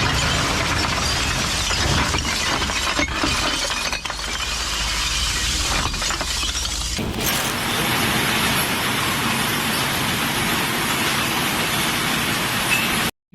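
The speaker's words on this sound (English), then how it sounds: "The lava flow that you heard of has the sound of broken glass or breaking glass" Flowing lava grinds and crackles like breaking glass, a loud, continuous shattering and tinkling that shifts to a denser, hissier texture partway through, with no voices.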